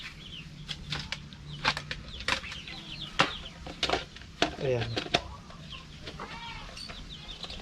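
Chickens in a mini-farm coop cluck in short bursts with a few rooster-like calls and wing flaps, close by, while someone speaks briefly over the birds.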